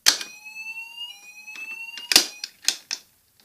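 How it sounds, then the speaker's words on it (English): Mini fire alarm being tested, giving a rapid high-pitched electronic ringing tone that steps down in pitch partway through, with sharp clicking and knocking of the device mixed in, close and alone. "This is mini fire alarm test"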